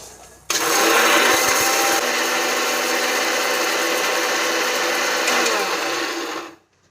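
A mixer grinder loudly whirs through black pepper and chillies for a spicy pepper powder, starting abruptly and holding a steady, dense grinding roar for about six seconds before cutting off.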